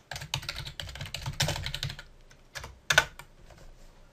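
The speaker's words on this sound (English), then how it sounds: "I'm just going to type it in" Rapid clicking on a computer keyboard, close and crisp, in uneven bursts with short pauses, ending in a couple of sharp final key taps.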